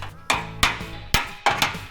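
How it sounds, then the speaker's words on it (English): Hammer-and-dolly metal work fine-tuning the edge of a flattened sheet-metal panel: about six sharp, ringing hammer blows at an uneven pace, close by, with no talking. "then we'll hammer and dolly"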